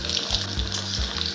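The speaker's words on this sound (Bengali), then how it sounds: "নাড়াচাড়া করে ভালো করে ভেজে এবার তুলে নেব আলুগুলোকে" Potatoes sizzle in hot oil in a wok as they are turned over, giving a continuous close crackle with a low hum underneath.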